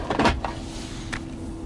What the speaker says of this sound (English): this here opens up, and you kind of have like a junk drawer there